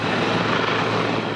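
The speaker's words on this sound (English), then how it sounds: "police helicopters flew above Rivière-Éternité, searching for two people swept away by rushing waters" Police helicopters fly overhead above Rivière-Éternité during a search of a wide area after a Quebec landslide, their rotors making a steady, loud broadband roar that fills the whole moment with no voices.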